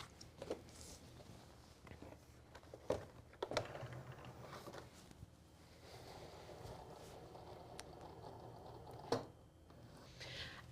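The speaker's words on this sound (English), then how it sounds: "We're using a fine point blade and we're going to load this mat in." A Cricut cutting machine fitted with a fine point blade cuts a calibration sheet, heard as a faint, low mechanical whir with scattered small clicks and a few sharper taps as the carriage moves, with no talking.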